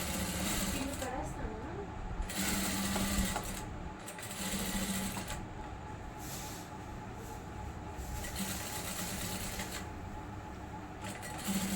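A sewing machine running top stitching on a kurti, whirring steadily in long bursts with brief pauses, close and fairly loud, with someone talking over it.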